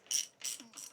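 Ratchet driving a 14mm socket to tighten the bottom fork clamp on a motorcycle during a suspension upgrade: three quick, close, crisp clicking pulls, each a short burst of metallic ratcheting.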